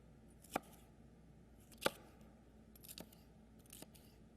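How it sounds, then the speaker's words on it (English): A knife slices a purple pepper into strips on a cutting board, giving four crisp, crunchy cuts spaced about a second apart, the first two sharp and close and the later ones softer. "We're going to cut this pepper into strips."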